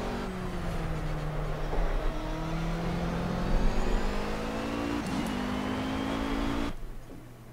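A racing car in Project Cars laps the Nürburgring Nordschleife in a simulated drive, its engine a steady, loud, close drone whose pitch climbs and settles through the run before cutting off abruptly near the end.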